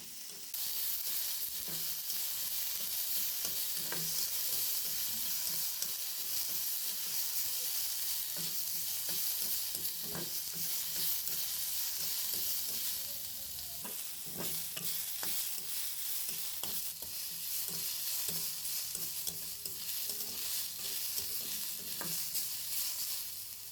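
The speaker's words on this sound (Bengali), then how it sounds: "৫-৬টি রসুনের কোয়া, ৪ টেবিল চামচ পেঁয়াজ কুচি দিয়ে ২-৩ মিনিট হালকা ভেজে উঠিয়ে নিলাম।" Five or six garlic cloves and chopped onion fry lightly in a pan with a soft, continuous sizzle, punctuated by intermittent scrapes and clicks of stirring.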